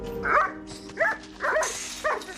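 A dog barks and yips in four short, sharp bursts spaced about half a second apart, fairly close and loud, with no talking over it.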